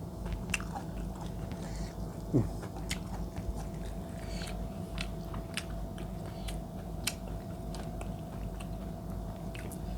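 Someone bites and chews spicy shrimp papaya salad made with olive leaves. Soft, close crunching and chewing run steadily under a constant low background hum, with one sharper bite standing out.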